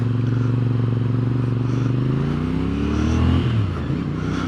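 A 2023 CFMOTO 450SR sport motorcycle engine revs up loud and close, its tone climbing steadily over a few seconds and then dropping back, heard alone.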